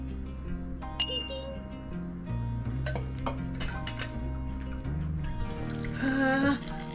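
A FamilyMart smoky highball fizzes and clinks in a glass at close range, bright sparkling ticks and chimes over low background hum, with people talking through it.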